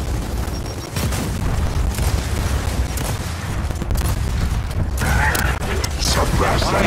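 A frag grenade goes off during a Gears of War 4 battle: a heavy boom sits inside a dense, continuous wall of loud gunfire and combat noise.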